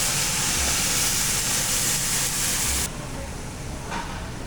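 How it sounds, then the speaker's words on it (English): Food sizzles loudly in a pan with a steady, bright hiss that suddenly drops to a softer sizzle near the end. "Do you hear that? Sizzling."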